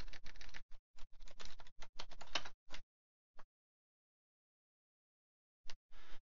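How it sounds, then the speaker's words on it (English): A password being typed on a computer keyboard, a quick close burst of key clicks that slows to a few single taps, then quiet, and then two more brief keystroke bursts at the end. "you're going to want to probably type in the right password"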